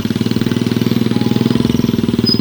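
A tractor engine runs steadily on forested hillside farmland, a close, loud, even chugging with a fast regular pulse and no talk over it.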